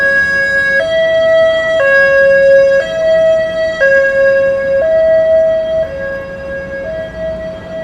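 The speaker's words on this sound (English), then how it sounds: "Ambulance has to get through Times Square too." An ambulance siren sounds loudly in Times Square, New York, amid the crowds the day before New Year's Eve, with a steady two-tone hi-lo wail switching pitch about once a second and no talk over it.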